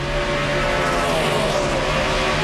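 A NASCAR race car engine roars at full throttle at Watkins Glen in 2010, loud and sustained with a steady high-pitched drone throughout.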